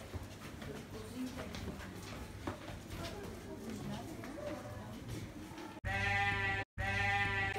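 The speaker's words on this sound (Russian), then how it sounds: "А вот э, овца." Sheep bleating loudly and close at a Bulgarian site near a church, two drawn-out bleats at the end after a stretch of ambient noise and talking.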